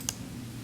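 Two quick, light key taps on a computer keyboard, spaced about half a second apart, crisp and close over a faint steady hum.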